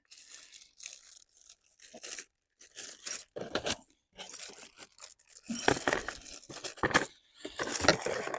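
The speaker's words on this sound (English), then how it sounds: "We'll just open these bags up and we'll find out what's inside of here." Plastic bags holding trail camera accessories are torn and crinkled open close by, in bursts of rustling and tearing broken by short pauses, with no speech.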